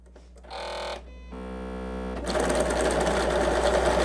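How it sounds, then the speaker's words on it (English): A sewing machine stitches half square triangle quilt pieces just inside the marked line, running in short bursts that build into a steady, loud whir with no talking. "let's go ahead and sew that real quick on the inside of the line"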